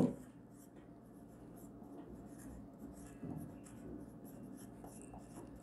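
Pen or chalk writing during an accounting lesson, a faint continuous scratching and rubbing over low room noise.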